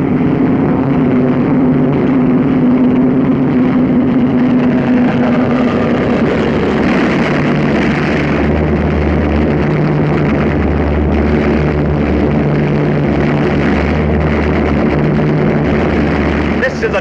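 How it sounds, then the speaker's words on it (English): American P-38 fighter planes take off from an Allied airfield in North Africa, their engines droning loud and steady, with a deeper pulsing roar building partway through as the aircraft climb. "American P-38s rise to the attack."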